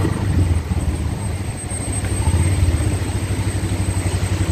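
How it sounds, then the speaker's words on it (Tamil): An auto rickshaw engine idles with a steady, low throbbing hum beside a waterfall on the Kallar Meenmutty river in Kerala, blended with constant rushing noise and no voices. "ஆட்டோ சத்தம் கேட்குதா?"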